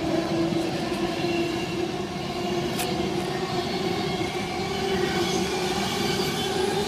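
A train runs straight through platform 4 at Stafford station without stopping, giving a loud, steady rail roar that holds for the whole stretch with no talk over it.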